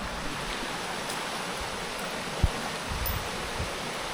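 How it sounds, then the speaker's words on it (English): A river in Scotland runs high after rain, giving a steady broadband rush of flowing water with one brief close knock partway through. "The river was just down there yesterday and now it's come up here"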